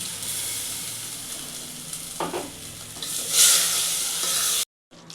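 Water poured into a frying spice paste for majjige huli sets off a steady, close hiss of sizzling, rising to a louder spurt near the end before cutting off, with no talking.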